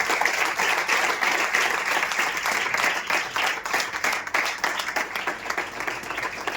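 A church congregation at a youth meeting claps in praise, a dense, steady burst of applause from many hands filling the room throughout, with no talking over it.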